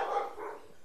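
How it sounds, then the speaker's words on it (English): A single short, muffled dog bark sounds once from a distance, faint and brief. "Ignore my dog in the background."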